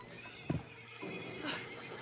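A horse in Red Dead Redemption 2 gives a sharp whinny, followed by the soft clip-clop of hooves and the snorting and shuffling of horses close by.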